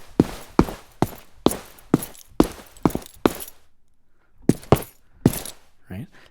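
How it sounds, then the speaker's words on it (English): Footsteps with jingling keys, produced by a soundscape sound-design plugin: a regular series of crisp steps with a metallic jangle on each, a brief pause, then a few more steps. "So maybe this person's got some keys."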